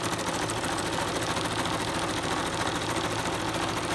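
A sewing machine runs steadily as quilt pieces are fed through one after another, giving a dense, even whir close by with no break and no talking.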